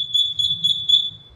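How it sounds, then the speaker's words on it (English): A fire sprinkler system's supervisory alarm sounds at the control panel, a steady high electronic tone pulsing in regular beeps, with a low rumble of background noise beneath it. "I haven't flowed any water in the system, but I get a supervisory alarm at the panel."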